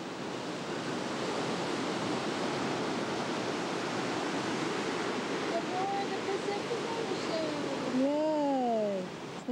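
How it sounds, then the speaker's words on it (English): Pacific Ocean waves crash on rocks at Monterey, California, a loud continuous broadband roar of surf that fills the whole stretch, with a brief whistling tone rising and falling near the end. "Into the roar of the Pacific Ocean. It's crashing on the rocks."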